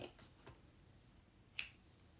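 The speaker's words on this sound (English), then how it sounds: "I'm going to cut my yarn" A single sharp snip of scissors cutting yarn during crochet work, close and brief, preceded by a couple of faint handling taps in a quiet room, with no talking.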